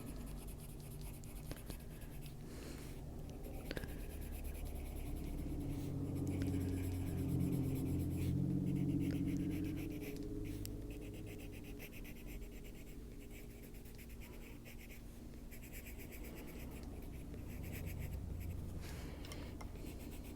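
Coloured pencils scratch steadily across a paper drawing page, making a soft, continuous, close scraping with small strokes and pauses, alone and faint throughout.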